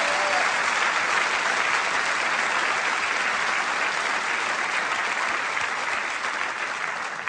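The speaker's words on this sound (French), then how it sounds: "un grand merci à Thomas, qu'on peut applaudir très fort." A large theatre audience at a comedy show gives loud, dense, continuous applause that holds steady and eases slightly toward the end.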